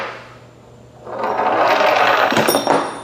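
A solid cylinder and a hoop rolling down a ramp: a soft start swells after a second into a steady, loud rolling rumble, ending in a couple of knocks.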